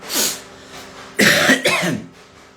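A man with a fever coughs: one short cough, then after a pause a louder burst of two or three harsh coughs close to the microphone, with a breathy tail.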